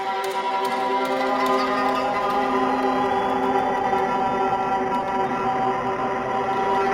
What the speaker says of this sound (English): I got some creepy string samples set up, and I'm gonna run them through the Mood Mark II